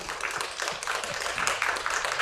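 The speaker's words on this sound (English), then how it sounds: "I just give him a round of applause," Audience applause at a talk or ceremony, a steady wash of many hands clapping at close-to-moderate distance, dense and continuous with no voices over it.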